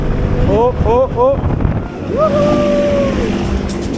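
Wind roars steadily against the microphone on a swinging fairground ride at a French funfair, a continuous low rush under excited voices and shouts.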